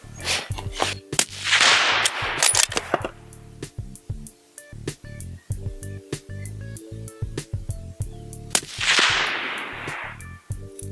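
Sako Carbonlight rifle topped with a Swarovski scope fires a quick string of 95-grain varmint loads: sharp cracks with ringing decay, two strong bursts among scattered snaps and clicks, loud and close, no talking.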